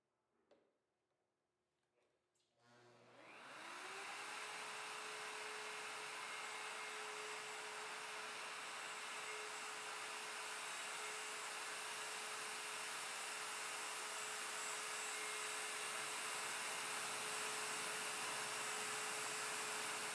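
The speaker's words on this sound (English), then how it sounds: "Place the router on the jig and route the front left tenon." A plunge router mounted on a Leigh FMT Pro jig cuts a tenon: after a few quiet seconds with faint handling noises, the motor spins up and settles into a loud, steady whine that runs to the end.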